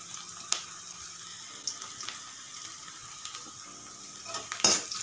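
Ginger garlic paste frying with onions in a pan gives a faint, steady sizzle under scattered clinks and scrapes of stirring with a utensil, close and quiet.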